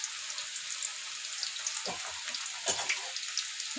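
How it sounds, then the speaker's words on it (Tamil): Onions frying in oil, with a steady bright sizzle and crackle throughout, plus a few soft low knocks from stirring or pan contact. "நம்ம நல்லா பொரியணும் இந்த வெங்காயம் எண்ணெயில்."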